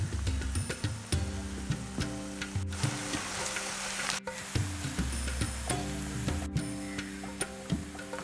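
Sliced onions fry in a pan over a high flame with salt, a steady crackling sizzle broken by frequent ticking and scraping stirs close by, with no talk.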